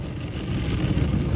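An automatic car wash runs loudly around a car, heard from inside the vehicle as a dense, steady rumbling roar of spray and machinery that swells slightly toward the end.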